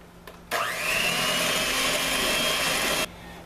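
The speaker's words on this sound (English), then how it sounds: "And just blend this till smooth and creamy." Electric mixer blending cream cheese for cookie cheesecake bars: a steady loud motor whir that starts abruptly, holds evenly for about two and a half seconds, then cuts off.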